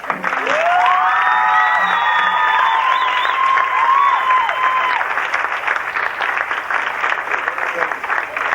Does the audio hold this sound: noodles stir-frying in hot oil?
no